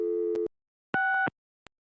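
Telephone dial tone from the adventure game Gabriel Knight: Sins of the Fathers, two steady buzzing tone bursts of about a third of a second each, separated by silence, then a tiny click.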